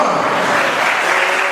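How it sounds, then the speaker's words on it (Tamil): A church congregation clapping hands together in praise during a worship service, a dense, steady wash of applause filling the room without a break. "விசுவாசியை கைத்தட்டி ஆண்டவரை மகிமைப்படுத்தி பார்க்கலாம்"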